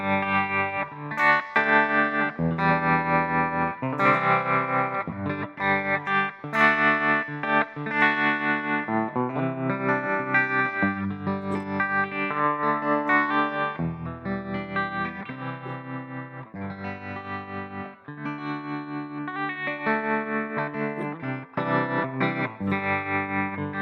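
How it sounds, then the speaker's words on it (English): An electric guitar through a Fractal FM3 MKII Turbo with a tremolo effect plays a continuous run of chords and notes, its volume pulsing throughout, with no talking. "So here's my tremolo."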